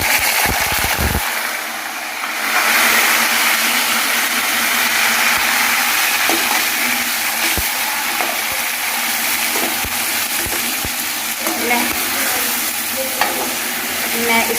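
Ingredients being lightly fried and stirred in a pan in a home kitchen, a steady sizzle with scraping stir strokes running throughout, close and fairly loud with no talking.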